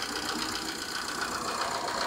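A Maruti Swift diesel with an AMT gearbox idles steadily, its engine producing a continuous, even mechanical hum with a faint knocking texture, close and constant throughout with no talk.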